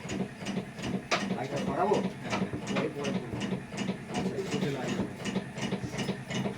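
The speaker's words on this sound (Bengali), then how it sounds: "বেল্ট চালু হয়ে গেছে, বেল্ট চালু হয়ে গেছে" A batasa sugar-drop making machine runs with its belt turning, giving a continuous rhythmic mechanical clatter of repeated ticks and knocks at a steady pace, close and fairly loud.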